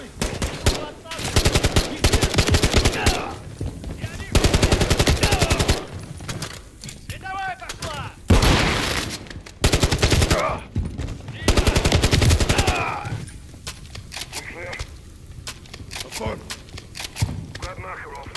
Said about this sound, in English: Contact! I've got Makarov! Return fire!